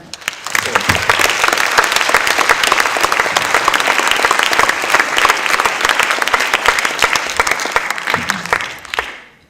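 Sustained, loud audience applause at a comics festival opening ceremony in a theatre, honouring the participants of a new-talent contest; dense steady clapping fills nearly the whole stretch, then fades out abruptly at the end.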